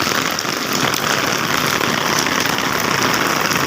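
Heavy night rain pours steadily in Hyderabad, a dense, continuous hiss of drops on surfaces, loud and unbroken throughout with no voices.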